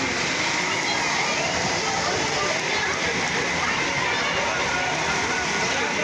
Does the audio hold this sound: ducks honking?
no